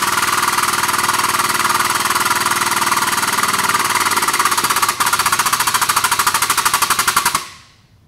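A hydraulic pump runs steadily while pressurizing a Snap-it tube plug ram up to 3000 psi, a loud, rapid mechanical chatter that pulses evenly for several seconds, briefly stutters, then cuts off and fades to silence.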